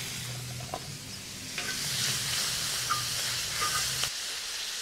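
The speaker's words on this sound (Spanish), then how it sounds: "Aquí vamos a esperar a que el mismo tocino empiece a soltar todo lo que es el aceite, la grasa que trae" Bacon renders its fat on a disco, a steel plow-disc griddle, for papas campiranas. A steady bright sizzle with occasional pops and a few clinks of a utensil, close and moderately loud, no talk.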